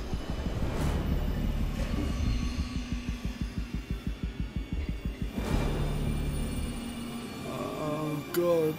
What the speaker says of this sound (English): It's the fucking screechiest train.